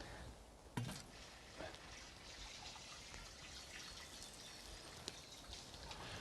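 Water poured onto garden plants in spring, a steady soft splashing and trickling stream with a few brief louder spills, fairly quiet and close.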